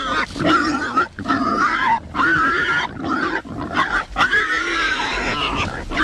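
Pigs grunting continuously and loudly at close range, a dense herd sound with rough, overlapping snorts and oinks.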